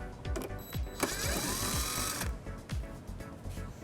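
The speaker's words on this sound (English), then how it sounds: "it exposes this screw that we'll remove using an 8mm socket" An 8mm socket driven by a power tool backs a screw out of a 2009 BMW X5 bumper, a short whirring run amid close clicks and taps of the tool and parts.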